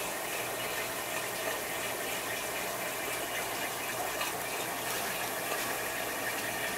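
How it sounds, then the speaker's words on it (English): Water pouring steadily into an angelfish aquarium during a water change, a continuous broadband gush heard close and alone. "Water change over here on the angelfish."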